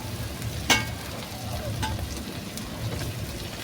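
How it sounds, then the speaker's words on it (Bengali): Chopped tomatoes frying with browned onions in a pot over a clay stove, a steady low sizzle throughout with a sharp clatter near the start and a softer tap later. "এইবার হচ্ছে টমেটো কুচিগুলো দিয়ে দিলাম,"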